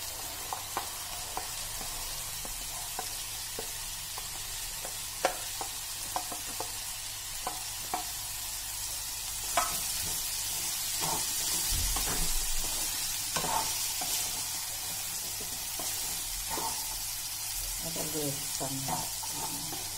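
Chopped ridge gourd sizzling softly in a hot pan as it is stirred, with scattered scraping clicks and a steady low frying hiss, fairly quiet.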